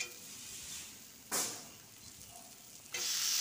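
Onions with salt and turmeric frying in a pan, a faint steady sizzle with two short bursts of louder hiss and scraping as they are stirred.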